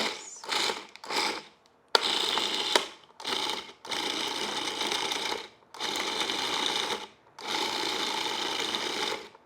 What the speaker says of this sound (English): With this Cuisinart, the other thing you can do, like I'm pulsing it right now